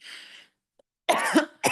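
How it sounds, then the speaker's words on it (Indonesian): A single cough from an adult speaker during a talk on parenting communication, close and sharp, with a second short cough following after a brief pause; otherwise quiet. "Sorry ya, saya batuk."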